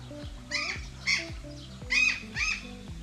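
Several harsh, squawking calls of Demoiselle cranes at a zoo in Armenia ring out in four separate bursts, loud and close, over low background rumble and occasional thumps.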